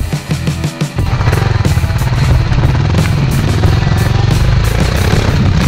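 A motorcycle engine roars loudly and close while riding, starting with a few uneven throttle blips before settling into a sustained, rough, powerful drone, with no voices.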